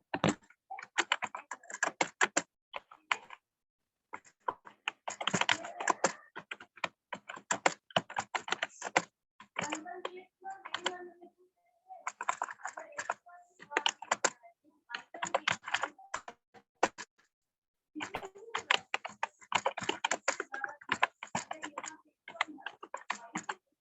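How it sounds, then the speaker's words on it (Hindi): Fingers type on a computer keyboard into a chat box during an online English grammar class, with quick bursts of clicking keys broken by short pauses, close and steady throughout, and no voices. "जो मैंने एग्जाम्पल आपको दिया वो एग्जाम्पल एक बार मैं यहाँ पर लिख देती हूँ चैट बॉक्स में।"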